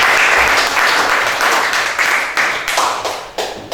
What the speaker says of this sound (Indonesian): Beri tepuk tangan nih Maria untuk kelompok.